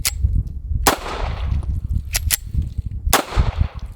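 A Beretta M9 pistol is fired during a torture test, giving five sharp, loud cracks at uneven intervals, two of them in quick succession. Low rumbling background noise fills the gaps between shots.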